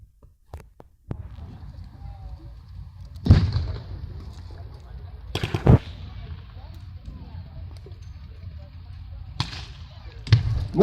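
Artillery fire from 25-pounder guns at a Tiger tank reenactment day, with four loud booming blasts spaced a few seconds apart, each leaving a rumbling tail, and talk heard between the shots.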